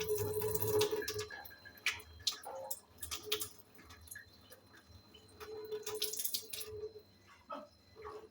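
Green gram being washed in water at a kitchen sink, with close irregular splashes, drips and sloshing pours coming in bursts with short quiet gaps, fairly soft overall, no talking.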